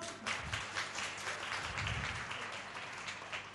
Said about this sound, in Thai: ขอเสียงปรบมือให้ท่านด้วยครับ